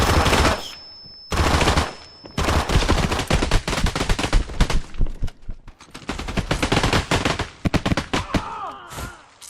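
Rapid bursts of gunfire in the tactical shooter Exfilzone, loud clustered shots in quick volleys with short gaps between them, no talk over them.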